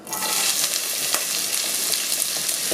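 Onion hits a hot pan, breaking into a bright, steady sizzle with crackles and a few stirring taps, loud and close with no talking.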